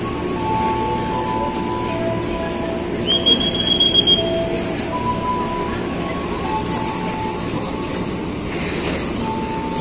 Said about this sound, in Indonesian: Ada KRL masuk.